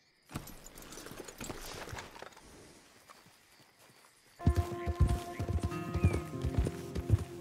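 Thoroughbred horse in Red Dead Redemption 2, hooves clip-clopping at a walk, then louder close hoofbeats joined by a sharp neigh, with faint background ambience.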